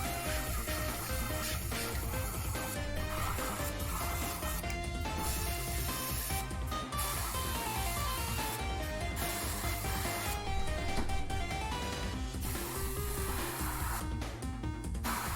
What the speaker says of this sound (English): Now it's airbrushing.